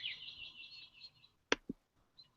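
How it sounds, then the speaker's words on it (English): Birds sing outdoors in a thin, high warbling phrase, faint and somewhat distant, followed by a couple of short sharp knocks and a brief chirp. "We can hear the birds, Josh."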